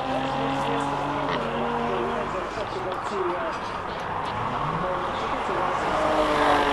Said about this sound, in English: Listen to that thing, F-Type S.